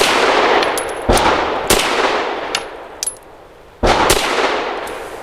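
Arex Zero 1 pistol firing single action shots, four loud sharp reports spaced unevenly at an outdoor range, each followed by a ringing decay and faint metallic pings.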